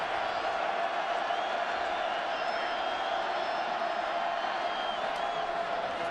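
A huge crowd of over 100,000 fills a college football stadium during the Ohio State vs Indiana game in 2016, producing a constant, distant roar with faint cheers throughout, with no clear talk over it.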